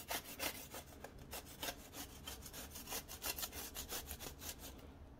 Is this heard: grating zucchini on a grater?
yes